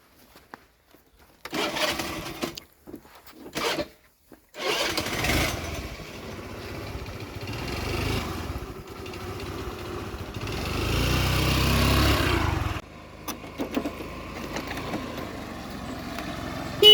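A Honda Activa scooter's small engine starts after a few short bursts, then runs with a steady, moderately loud putter and revs up before stopping abruptly. No one talks.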